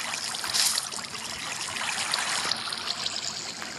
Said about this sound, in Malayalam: ഇങ്ങോട്ടേക്ക് വെള്ളം ഒഴുകി വന്ന് കാണും.